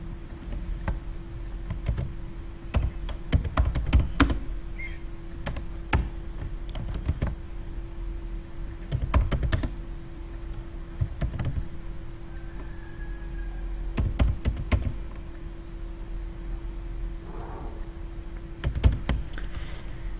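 A computer keyboard clatters in scattered bursts of crisp, nearby keystrokes separated by quiet gaps, over a low constant hum, with no one talking.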